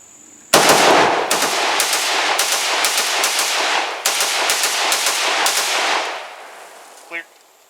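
A Romanian Cugir M10 rifle fires a long, loud, close string of rapid shots, several bursts running together for about five seconds before a brief metallic clatter.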